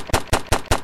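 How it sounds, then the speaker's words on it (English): Four rapid gunshots in a video game robbery, sharp and loud, fired in quick succession about a fifth of a second apart, with no talk over them. "Those were warning shots."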